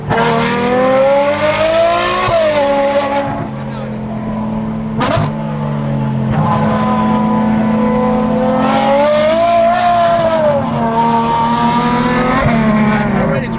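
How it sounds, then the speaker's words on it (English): A Porsche 992 GT3 RS on a mountain road, heard from inside as its engine roars loudly and climbs steeply through the gears in hard acceleration, with people talking over the engine noise. "Put everything off and then do launch control."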